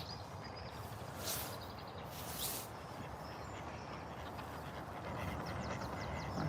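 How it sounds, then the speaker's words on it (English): Ducks quacking in a city park, a few short quacks in a quiet outdoor setting, fairly faint and set against soft background noise. "I can hear some more ducks somewhere."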